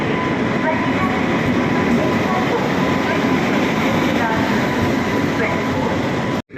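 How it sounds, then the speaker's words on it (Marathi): An arriving train rumbles past loudly and steadily, a dense rolling clatter of wheels on track that cuts off abruptly at the end. "ट्रेन आली"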